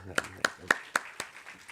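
A handful of separate, evenly spaced claps ring out at a keynote talk, about five sharp hand strikes over a faint steady tone, with no full crowd swell.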